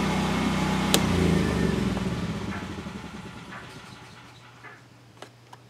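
A DuroMax XP10000E standby generator engine runs with a steady low hum and is then switched off, the drone fading away over a few seconds into near quiet with a few faint clicks.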